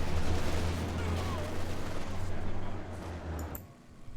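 Artillery barrage from Company of Heroes 2, a dense, sustained rumble of distant shelling and crackling impacts that fills the first three and a half seconds before cutting off abruptly into near quiet.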